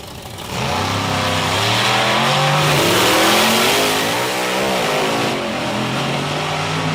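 10,000-pound pulling vehicles launch off the starting line in a pulling competition, their engines roaring loud and close as they rev up and climb in pitch, sustained throughout.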